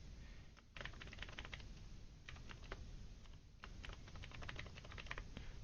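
Keys clatter on a computer keyboard in bursts of quick, irregular taps over a steady low room hum, close and fairly quiet, as a username and repository name are entered; no one talks.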